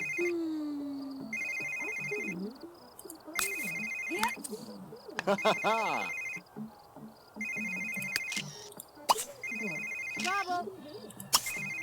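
A phone rings in The Sims 3 in repeated bursts of electronic tones, mixed with game sound effects and someone speaking over it.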